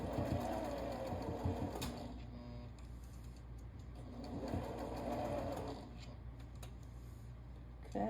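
A sewing machine tacks down the middle of fabric petals on a pillow, running in two short buzzing bursts with a quiet pause between, close and moderately loud, alone with no talk.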